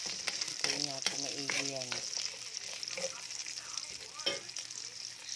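Onions fry and are stirred in a pan while cooking egg and tofu with oyster sauce, a steady close sizzle with stirring scrapes under a person talking.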